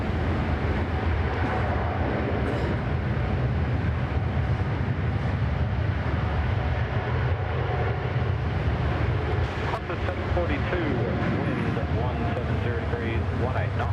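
A Qantas Boeing 787 takes off from Sydney Airport, heard as a steady, distant low jet rumble throughout, with people talking over it.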